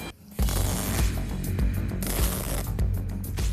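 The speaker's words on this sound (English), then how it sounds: "It's the sound of blowing a hole in the car." Welding on the frame of a 1974 AMC Javelin: a steady crackling, sputtering hiss runs almost the whole time, starting after a brief quiet moment and holding loud and continuous.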